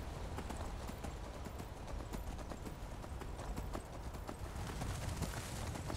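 Rapid hoofbeats of a horse sprinting in the video game Skyrim, a dense, fast galloping patter that runs continuously, close but low in level.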